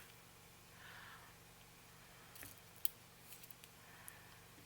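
Scissors snip off a piece of paper while making a hanging file journal, a few faint, quiet clicks and a soft crisp cut over low room hum, no talking.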